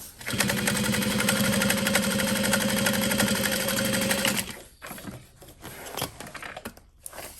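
A sewing machine top stitches a shoulder bag, running in one steady, fast, close whir for about four and a half seconds before it stops and gives way to quieter handling and rustling.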